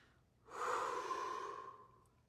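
A single deep breath, close and clear, swelling quickly and trailing off over about two seconds with no talk over it.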